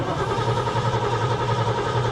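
A 1977 Ford LTD engine cranks over in a quick, rhythmic churning pulse, loud and close, sustained for a couple of seconds with no talking.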